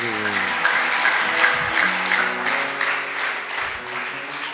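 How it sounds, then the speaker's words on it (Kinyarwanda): A church congregation applauding God, a continuous crowd of clapping heard under a preacher's voice and other voices, with steady brisk rhythm throughout. "Komera Imana amashyi mu izina rya Yesu."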